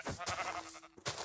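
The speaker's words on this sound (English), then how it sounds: "We got a sheep over there." Several short sheep bleats from the game Minecraft, close and clear, with a brief dull thunk near the end.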